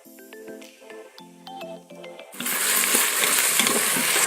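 Ginger and garlic go into a pan of onions sautéing in an Instant Pot: quieter clinks and taps of utensils, then a sudden loud burst of sizzling frying that carries on steadily.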